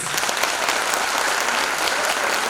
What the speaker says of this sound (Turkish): Öğrencilerimiz tekrar alkışlıyoruz.